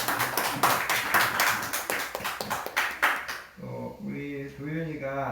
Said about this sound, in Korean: 축하의 박수를 한번